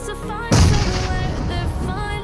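A grenade explosion in the BGMI video game: a loud, close boom bursts in just after the start, followed by a rumbling decay that fills the rest of the clip over ongoing game sound.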